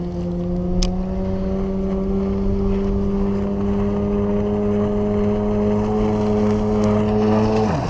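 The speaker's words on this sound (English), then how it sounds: "the sound of an engine suddenly cuts through the silence" A jet ski engine drones steadily and loudly, its pitch holding a constant hum with a slight rise as it nears, with no voices over it.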